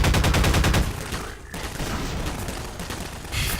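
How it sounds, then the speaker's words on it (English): Rapid bursts of automatic gunfire from the Half-Life 2: Lost Coast video game, loud and dense at first, then a continuing firefight with scattered shots that swells again at the end. "where am I getting shot from?"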